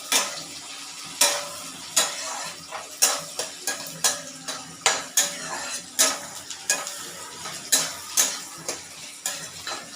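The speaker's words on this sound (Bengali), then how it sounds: "আমার পেঁয়াজটা ভাজা হয়ে গেছে।" Onions fry in a kadai, sizzling steadily while a metal utensil scrapes and clacks against the pan in quick, irregular strokes, close and fairly loud, with no talking.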